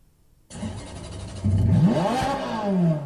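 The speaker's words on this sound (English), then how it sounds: "Imitate a car." A home AI assistant plays a car sound: an engine starts, then revs and accelerates in rising and falling whines, loud and close, after a brief quiet moment.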